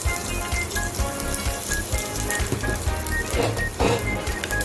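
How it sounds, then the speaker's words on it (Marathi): Mustard seeds and cumin crackling in hot oil for a dal tempering, a continuous close sizzle dotted with sharp pops and spits, with no talk. "राई आणि जिऱ्याची फोडणी मारूया."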